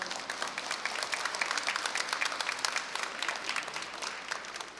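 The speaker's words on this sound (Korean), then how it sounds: "학위를 받게 된 모든 졸업생들에게 다시 한번 큰 박수로서 축하해 주시기 바랍니다." Applause for graduates at a cyber university degree ceremony, a moderately quiet but continuous spread of many hands clapping, evenly sustained from start to finish.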